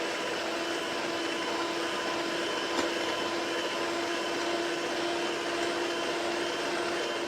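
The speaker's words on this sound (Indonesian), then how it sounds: "Terus kita kocok lagi whipped cream cair ya, ini sampai kaku." An electric mixer whips liquid whipped cream until stiff, its motor a steady, loud, close whir that holds unbroken from start to end with no talking.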